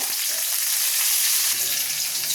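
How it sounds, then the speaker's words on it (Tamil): Mustard seeds crackle and splutter in hot oil while making tomato rasam, a constant loud sizzle with sharp popping bits throughout. "கடுகு பொரிஞ்சதும் கருவேப்பிலை சேர்த்துருங்க."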